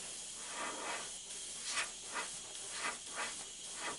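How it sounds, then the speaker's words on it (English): An airbrush sprays paint flames onto a 1934 coupe, a steady close hiss of air with soft pulses as the trigger is worked in short passes. "That's the cool thing about airbrushing, man."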